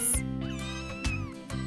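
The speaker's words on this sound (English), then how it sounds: "Three beautiful kittens." Newborn kittens in a children's animal cartoon give several high, thin meows in quick succession over a steady background music bed.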